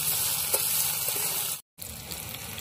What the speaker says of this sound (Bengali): হালকা লাল লাল করে ভেজে নিতে হবে ভেন্ডিটাকে। নরমই হয়ে গেছে, আর একটু ভেজে নিচ্ছি।